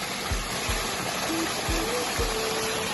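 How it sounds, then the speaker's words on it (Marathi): A waterfall pours as a loud, steady broadband rush throughout, with a few low thumps and faint tonal sounds mixed in, and no clear speech. "चला तुम्हाला धबधबा दाखवतो मित्रांनो बघू शकता तुम्ही धबधबा"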